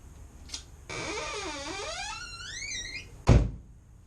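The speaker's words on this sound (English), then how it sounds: "And I can shut the door." A single heavy thunk of a car door slamming shut on a Mazda NA Miata, loud and close, after a few seconds of a wavering electronic tone.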